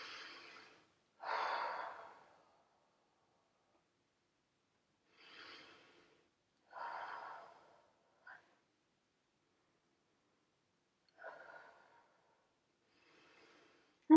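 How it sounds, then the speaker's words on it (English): Slow, audible breaths in and out during a Pilates mat exercise, several soft gasps and exhales spaced by quiet pauses, close and fairly faint. "and breathe just for a sec there"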